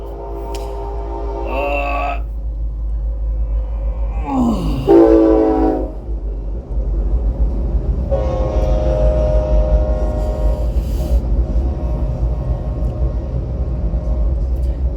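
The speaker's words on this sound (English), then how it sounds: "Take a minute while the train is passing." A train rumbles steadily past nearby, with a loud horn blasting in a few bursts over the continuous rolling of the wagons.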